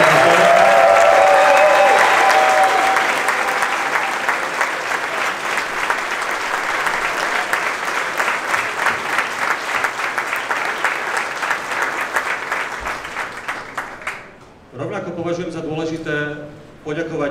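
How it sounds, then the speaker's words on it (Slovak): Sustained applause from an audience at a political campaign event honouring the election staff, dense and loud for about fourteen seconds before fading, then a voice begins speaking. "takže prosím vás potlesk pre volebný štáb"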